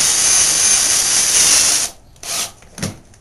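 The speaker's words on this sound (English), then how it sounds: "it'd probably be better to turn the speed down on the drill a little" A power drill bores into a 2x8 steel frame for an MTD collector, running loud and steady for about two seconds, then cutting out, followed by a couple of brief bursts.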